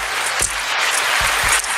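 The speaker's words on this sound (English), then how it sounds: "9-second applause." Continuous dense audience applause, steady and fairly loud throughout the short burst, with no talking over it.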